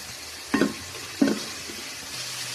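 Cinnamon and green cardamom drop into a pan with a soft, faint sizzle, marked by two small bursts of crackle about a second apart over a quiet steady hiss.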